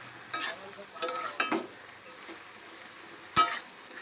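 Salt and turmeric get stirred into pumpkin greens in a pan: a handful of brief scraping strokes of a spoon against metal over a faint sizzle, with quiet gaps between them.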